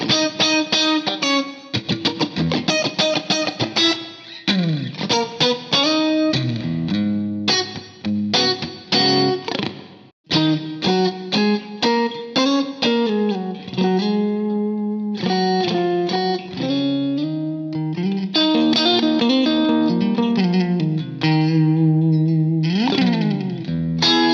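Electric guitar, a Dale Wilson Strat on the neck and middle pickup position, with a clean, bright tone playing a steady run of plucked single notes and chord fragments, close and loud, with no talking.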